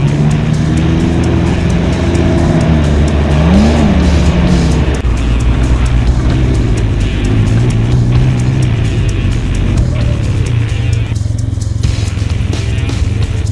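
A 2020 Can-Am Ryker 900 Rally Edition three-wheeler is ridden at close range, its engine droning loudly and continuously, with pitch rising and falling as the rider accelerates and eases off around a building.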